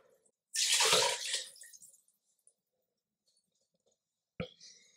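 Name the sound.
water poured onto sautéed vegetables in a pot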